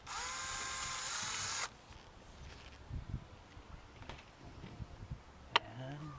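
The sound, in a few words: power drill drilling hub cap screw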